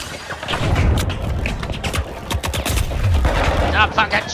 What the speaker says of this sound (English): Stop fucking shooting at me.